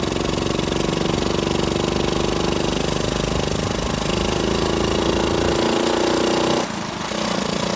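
A Honda Chaly CF70 motorcycle's small single-cylinder engine runs steadily in gear at close range, a loud continuous chugging drone with a dip in pitch and level near the end.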